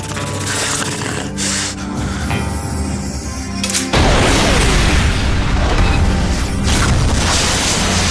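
Loud, continuous roaring explosion noise from a rocket launcher in the action game Afro Samurai 2: Revenge of Kuma, with a sharp surge about halfway through into a dense, sustained blast rumble over game sound, and no talking.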